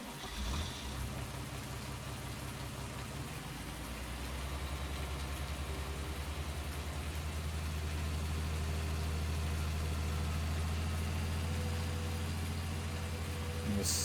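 Tractor engine in Farming Simulator 19, fitted with pallet forks: a steady low idling drone that swells louder and deeper after a few seconds, then holds a constant hum throughout, with a faint hiss above.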